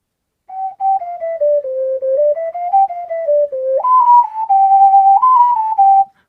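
Ocarina played alone as a single clear, steady melodic line of sustained notes, gliding gently down and back up before stepping higher, close and clean with no accompaniment.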